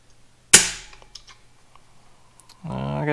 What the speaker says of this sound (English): I have a Lilom digital trigger gauge here. Let's see what it breaks at.